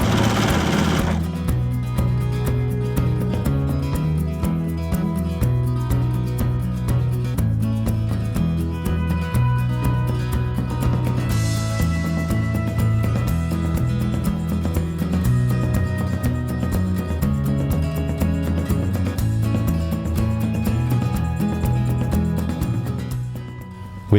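Sewing machine stitching vertical and horizontal seams in jelly roll quilt fabric, a steady loud mechanical whir with rapid needle rhythm running continuously throughout, with no talk.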